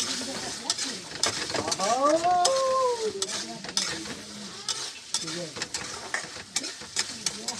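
Masala sautéing in oil in a pan, with a busy sizzle and repeated utensil scrapes and clinks, and a short tonal voice-like sound midway.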